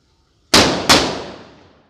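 Two firecrackers burst close together, loud sharp bangs about a third of a second apart, each trailing off into a fading rumble; no voices.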